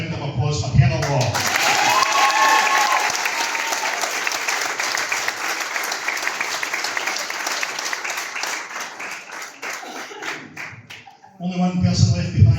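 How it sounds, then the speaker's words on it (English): Loud sustained applause from an awards-night crowd for a player-of-the-year winner, dense clapping lasting about ten seconds before dying away into voices at the end. "a massive round of applause for Heather Law"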